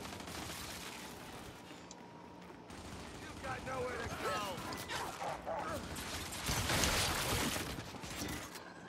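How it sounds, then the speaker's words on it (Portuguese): Sustained rapid gunfire from the Gears 5 video game on Xbox, with dense overlapping bursts that build louder toward the end over a constant background din. "porque senão ele atira em mim, tipo agora, e eu morro"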